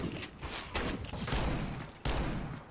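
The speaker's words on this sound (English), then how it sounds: "Who's shooting at me?" Counter-Strike: Global Offensive gunfire rattles in dense bursts of rapid shots, loud and close, with short gaps between volleys.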